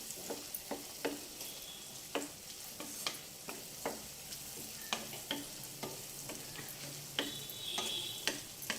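Sliced onions frying with fresh curry leaves and garlic in a pan, a soft continuous sizzle punctuated by frequent sharp ticks and scrapes of a spoon stirring, fairly close.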